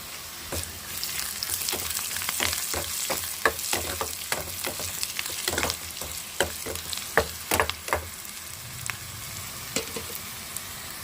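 Crackling, popping sizzle of tempering spices frying in hot oil until browned, with sharp irregular pops over a steady hiss, close and fairly loud, no talking.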